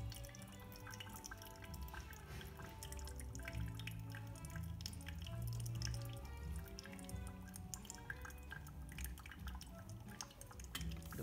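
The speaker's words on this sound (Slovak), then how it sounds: "200 gramov vody dolievam teraz v tom druhom" Water poured over filter coffee, draining in a steady stream of small drips and trickles, quiet and close, continuing throughout with no talk.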